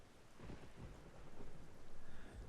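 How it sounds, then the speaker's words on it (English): Steady rain falling outside with low rumbling thunder, a soft continuous wash that swells slightly toward the end, distant and alone with no voices. "the rhythmic pattering of the rain outside was tempting my eyelids closed"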